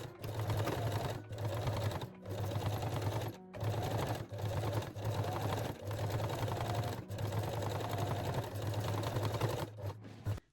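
A sewing machine stitches elastic on a garter belt in several steady runs of rapid, even clattering, each a second or two long, divided by brief pauses, with no talk.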